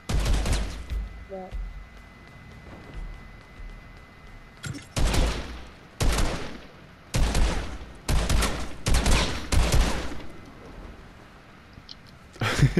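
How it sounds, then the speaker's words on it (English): Video game gunfire crackles in repeated loud bursts of rapid shots across a match, separated by short lulls, with a faint voice now and then. "Everyone's shooting each other in the face."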